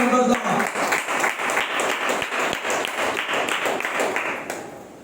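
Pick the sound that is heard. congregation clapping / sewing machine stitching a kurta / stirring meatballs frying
congregation clapping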